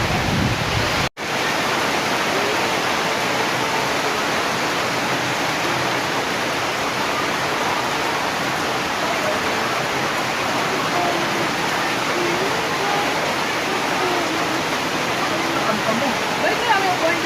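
Rain falling at a swimming resort pool area under a roof, a dense, steady, loud hiss of pouring water that holds constant throughout, with a brief sharp cut near the start.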